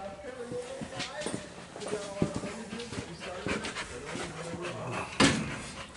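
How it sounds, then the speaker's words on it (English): Several pet dogs, including one named Sailor, pant and pad about close by during work on a car, with breathy panting, light footfalls and a sharp clatter near the end, while people talk over them. "Here comes the puppy dogs."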